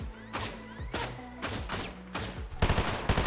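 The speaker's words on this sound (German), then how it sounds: "Das sind Schüsse gewesen" Bursts of gunfire in the video game Fortnite, some rapid like automatic fire, crackle over a low electronic hum, with single shots and volleys scattered through the clip.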